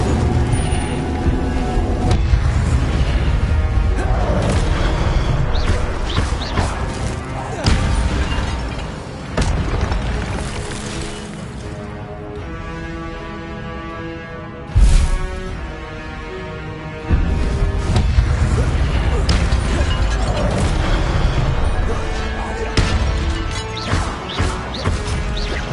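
Incendio fire spell cast in the Hogwarts Legacy video game, a loud, dense burst of crashing, roaring game effects with booming hits and clattering impacts that swell, dip midway, then surge again.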